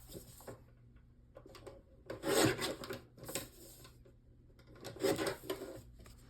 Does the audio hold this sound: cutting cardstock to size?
yes